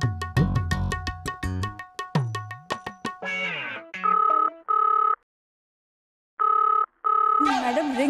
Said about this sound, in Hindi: मैडम रिंग जा रही, कोई उठा नहीं रहा है।